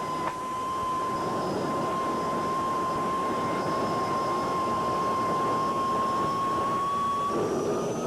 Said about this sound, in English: The engines. We're taking off.